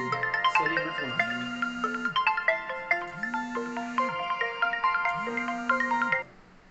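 A phone ringtone plays a bright repeating electronic melody, loud and close, with a recurring low sustained tone under the tune, then stops abruptly.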